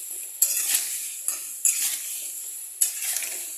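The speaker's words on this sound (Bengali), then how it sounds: "একটু হালকা করে আলু আর কাঁচকলাটাকে হালকা করে ফ্রাই করব" Potatoes and raw green banana frying in a pan with turmeric and salt, a continuous sizzle broken by four distinct scraping clanks of a spatula stirring against the pan, close and clear.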